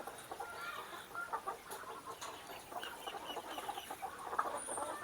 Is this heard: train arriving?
no